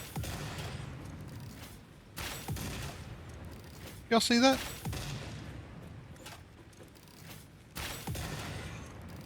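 Bursts of gunfire and explosion booms in a jetpack video game, a series of sharp hits spread across several seconds with one louder blast near the middle, while someone talks over them.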